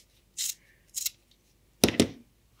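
Scissors cutting material for a homemade fursuit tail: four sharp, close snips in two pairs, the last two louder and fuller, separated by quiet gaps.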